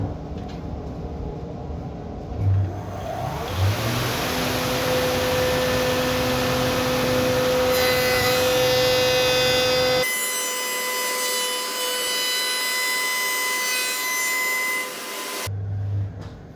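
A power tool cuts a curved bullnose stair tread from pre-finished timber flooring against a ring fence, giving a loud, close, continuous whining saw with a rising pitch and a change in tone partway through before stopping.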